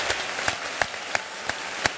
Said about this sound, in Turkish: Alkışlar hocam